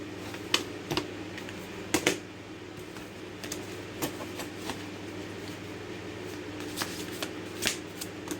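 Tarot cards are shuffled by hand during a reading, a steady run of crisp riffling clicks and soft flicks with a few louder snaps, close up and with no talk.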